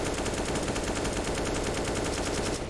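Sustained automatic rifle fire in the video game CS:GO, a dense, rapid, unbroken burst of loud shots at an even rhythm lasting several seconds, with no talking.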